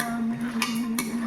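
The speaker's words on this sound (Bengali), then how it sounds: "সাঁড়াশি দিয়ে এটাকে বারবার করে নাড়াতে হবে" Metal tongs scraping and clinking against an iron wok while milk cream is stirred down into ghee, two or three sharp scrapes over a steady low hum.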